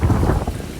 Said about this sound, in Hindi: बारिश इतनी तेज़